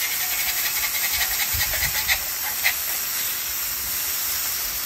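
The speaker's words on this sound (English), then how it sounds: "Let's go and flip these." Frozen ground beef hamburger patties hitting a hot griddle after flipping, a steady loud sizzle and hiss filling the space with a few brief crackles and no talk.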